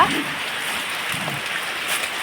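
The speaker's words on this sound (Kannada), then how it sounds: "ಮಳೆ ನೋಡಿ, ಖಂಡಪಟ್ಟೆ ಮಳೆ ಬರ್ತಾ ಉಂಟು ಇವತ್ತು" Heavy rain pours down steadily outdoors in a dense, even hiss, close and loud, with no breaks.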